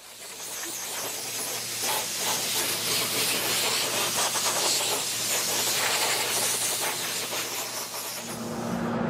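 A spray can of crackle paint hisses steadily and loudly for about nine seconds while an ESP LTD Alexi guitar body is coated, the spray sound continuous with no voices.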